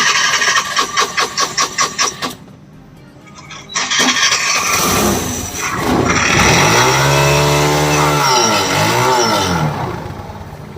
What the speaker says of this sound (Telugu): ఇప్పుడు వెహికల్ అయితే స్టార్ట్ చేస్తున్నాం చూడండి.